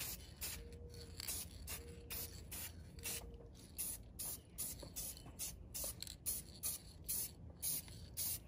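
Clear coat is sprayed onto an aftermarket headlight sprayer cover for a 2008-2014 Cadillac CTS bumper in a series of short hissing bursts from a spray can, with a faint rattle between passes, close and fairly quiet.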